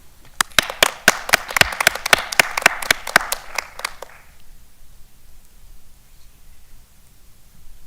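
Scattered clapping from a school board work session audience, a small group applauding for about four seconds, sharp individual claps close by, then fading into quiet room tone.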